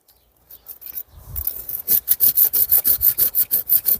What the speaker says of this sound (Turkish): Önce şu dalı bir keselim.